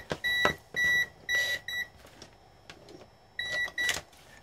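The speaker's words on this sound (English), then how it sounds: "Alarm! Livewire test." A Mestek DM91 multimeter sounds its live wire alarm during a high-voltage cable test, a string of loud, close electronic beeps in short even pulses with brief gaps and some handling clicks.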